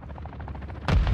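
Frag grenade thrown in the DMZ game mode, a short run of muffled rhythmic thumps ending in one sudden loud, close explosion.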